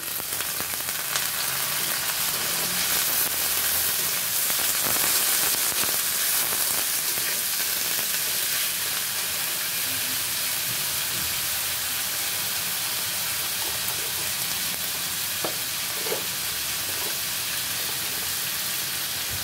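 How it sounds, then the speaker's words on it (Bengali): Potatoes and eggplant fry in hot soybean oil with onions, giving a steady, moderately loud sizzle and hiss that runs throughout with faint crackles and occasional stirring clicks. "পেঁয়াজটা ভাজা হয়ে গেছে, দিয়ে দিব কেটে রাখা আলু আর বেগুনগুলো।"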